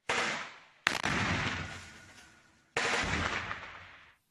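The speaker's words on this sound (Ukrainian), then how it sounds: "ворожий гранатометник стріляє з РПГ" Two loud, harsh RPG grenade launcher blasts tear through, each trailing off in a long rushing roar, with a sharp crack between them; distant-sounding and without voices.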